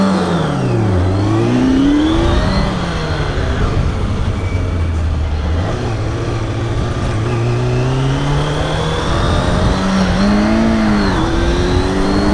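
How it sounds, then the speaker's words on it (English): A motorcycle engine roars loudly and continuously through a full wheelie held all the way down the road, its pitch rising and falling with throttle changes as it revs close by for the whole stretch. "Full wheelie all the way down."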